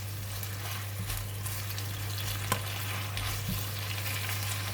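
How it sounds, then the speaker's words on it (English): Chinese broccoli (kailan) stir-fries with salted fish in a hot pan, a steady, even sizzle over a constant low hum, with a couple of faint utensil taps and no talking. "And now we put back the salted fish. Give it a mix again."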